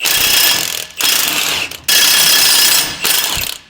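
An impact-style ratchet spins U-bolt nuts off a 2024 GMC 2500 axle during a lift kit install, giving four loud, close, buzzing bursts of about a second each, separated by short pauses, with no talk.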